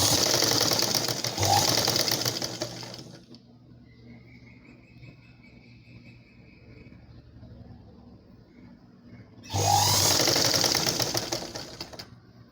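A sewing machine stitches a blouse in two loud, rapid bursts of needle clatter, separated by a long quiet pause with faint background hum.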